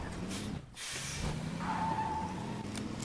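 A car driving in the Fortnite video game, a steady engine hum with a brief dropout and a higher whine partway through, under quiet background game sounds.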